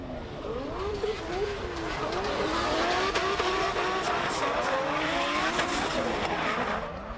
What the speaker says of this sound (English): Hearing a lot of feather throttle through there as both these guys punish those car around, and Godfrey's puts on the smoke stream